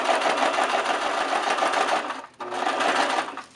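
A sewing machine stitches crepe paper beneath the presser foot with a loud, close, steady whirring drone that breaks off briefly partway through and then resumes. No one speaks.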